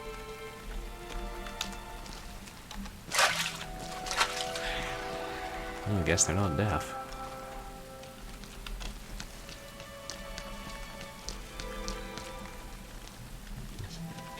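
Steady rain patter in a video game runs throughout, with someone talking over it and a brief louder splash-like burst midway.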